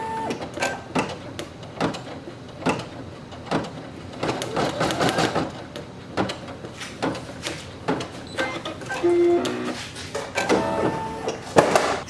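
A small embroidery machine with a 4x4 hoop stitches a placement mark onto stabilizer, giving a busy mechanical patter of needle strikes and clicks with uneven bursts, close and moderately loud, with no talking.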